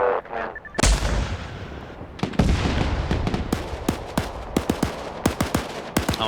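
Gunfire in a military video game: a heavy opening blast followed by a run of sharp, separate shots at an irregular rhythm, fairly close and loud against a rumbling battlefield background.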